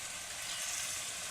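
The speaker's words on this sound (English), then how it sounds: "We got a sizzle." Seasoned food sizzles steadily in a hot pan, a close, even hiss of frying that runs unbroken before a brief louder clatter at the very end.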